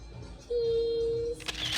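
Camera taking a selfie in a Cancun hotel room: a short steady electronic tone, then a quick shutter click with a faint rustle as the shot is taken.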